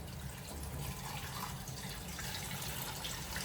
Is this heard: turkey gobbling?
no